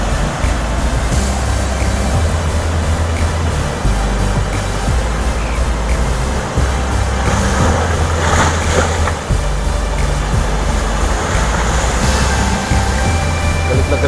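Rough, agitated sea with waves surging and crashing against rocks along the shore, a constant loud broadband roar of water and wind that continues throughout with no voices.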